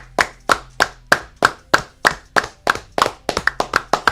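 Roughly twenty sharp hand claps ring out in a steady rhythm, close and loud, speeding into a quicker burst near the end, with no talking over them.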